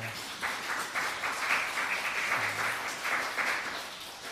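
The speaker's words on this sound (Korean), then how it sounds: "우리 옆에 있는 분들 박수로 환영하겠습니다" A church congregation at a Sunday worship service claps steadily to welcome one another, a soft, even patter of many hands at a moderate distance.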